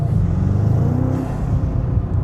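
A BMW G90 M5 engine fitted with a RamAir carbon intake rumbles steadily under throttle, a deep continuous growl with a slight rise in pitch, close and loud with no talking.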